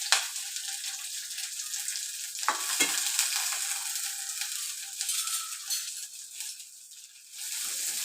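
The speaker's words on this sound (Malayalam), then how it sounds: "ഇനി എടുത്ത് വെച്ച സവാളയും ഇഞ്ചിയും വെളുത്തുള്ളിയും 2 പച്ചമുളക് കീറിയതും എല്ലാം കൂടെ ചേർത്ത് നല്ലവണ്ണം മൂപ്പിച്ചെടുക്കാം." Onion, ginger, garlic and slit green chillies fry in hot oil with a steady close sizzle, broken by a few scraping stirs and utensil clinks, and no one speaks.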